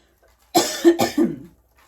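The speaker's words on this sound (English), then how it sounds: "Oh, please don't let the coughing start." A woman gives a short run of two or three close, dry coughs in quick succession, then silence.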